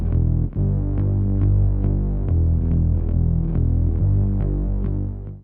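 A deep, throbbing bass guitar line plays steady repeated notes, with a heavy sub-bass rumble underneath filling out the low end.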